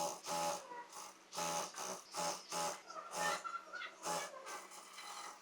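A domestic sewing machine stitching a hem strip onto a full-flare kalidar palazzo, running in short repeated bursts with brief pauses between, close and steady, no talking.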